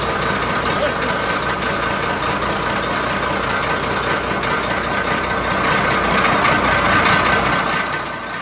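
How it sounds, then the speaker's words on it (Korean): An old engine, restarted after sitting unused for six years, idles with a steady rumbling chug and fine rapid pulsing, loud and close and running continuously. "시동을 걸었어. 그랬더니 시동이 푸르르 걸린 거예요."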